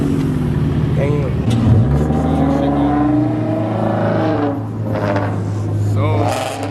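Cars at a car meet rev their engines and pull away one after another. The engine notes rise and swell close by, loud and continuous, with voices mixed in.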